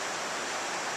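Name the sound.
Little Pigeon River flowing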